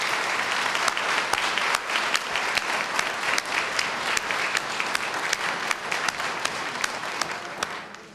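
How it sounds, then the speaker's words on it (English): Sustained audience applause for police officers at a county police chief's oath-of-office ceremony, steady dense clapping from a large crowd lasting several seconds. "So let's give them a round of applause."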